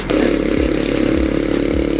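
A Honda Click 125 V3 scooter's engine revs hard and steadily as the rider accelerates to overtake, a loud, close, continuous drone with a pulsing rhythm and wind rush, no voices over it.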